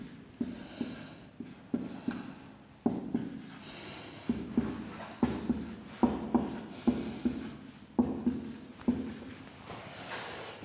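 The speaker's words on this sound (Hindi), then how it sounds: "चलिए नंबर लिखता हूं मैं।" Numbers written by hand, a series of short scratchy pen strokes with brief pauses between them, close and fairly quiet with no talking.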